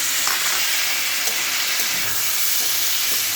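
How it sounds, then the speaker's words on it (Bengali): Onions and half-fried vegetables for chire polao frying in a pan, a loud continuous broadband sizzle with occasional stirring scrapes throughout, close and unbroken, with no talk. "তো আমি এখন পেঁয়াজগুলো দিয়ে দিচ্ছি।"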